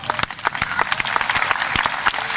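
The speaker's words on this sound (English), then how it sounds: "A round of applause for those athletes." An audience at a high school graduation ceremony applauds for athletes, a steady burst of many hands clapping close by with sharp individual claps standing out over the whole stretch.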